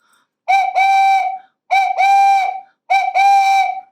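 Three bright, two-part slide whistle blasts with a breathy, sliding tone, each about a second long, separated by short pauses, mimicking a train whistle.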